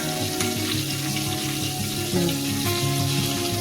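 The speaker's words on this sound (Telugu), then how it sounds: "సో ఇవి ఇలా టెన్ మినిట్స్ పాటు చక్కగా స్లోగా ఇలాగే వేగిపోతాయి" Mutton keema balls fry slowly in oil in a pan, giving a steady, dense sizzle and crackle with no voices over it.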